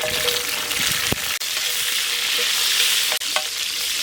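Peeled small shallots frying in hot sesame oil for a Chettinad chicken liver fry, a steady close sizzle with occasional stirring knocks and no voices.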